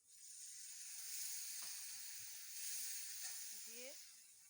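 A little water splashed into a hot pan gives a steady, faint sizzling hiss that carries through the whole stretch, with brief vocal sounds near the end.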